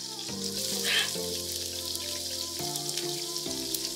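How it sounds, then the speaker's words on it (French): Shallots frying in a pan, cooked for homemade burgers, send out a steady close sizzle that sits under music playing throughout. "on va ajouter dans l'autre poêle les échalotes"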